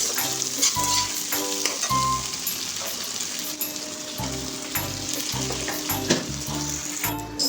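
A spice masala for chicken sautéing in a pan, with a continuous loud sizzle and repeated scraping stirs of a spatula against the metal, heard close up with no talking.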